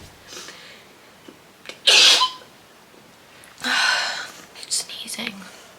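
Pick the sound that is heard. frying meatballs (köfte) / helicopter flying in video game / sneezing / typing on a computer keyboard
sneezing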